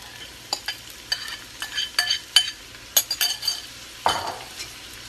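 A vegetable mix fries in hot grapeseed oil, and a utensil stirs it. The pan sizzles under a string of scraping, clinking stirs, close and fairly loud.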